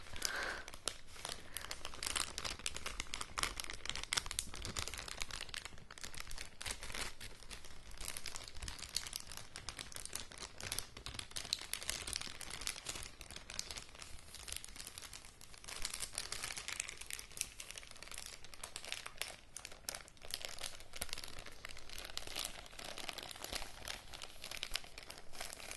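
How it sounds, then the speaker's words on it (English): Material is crinkled loudly and continuously for ASMR, a dense, close crackling rustle with no pauses. "I'm just crinkling as loud as I can"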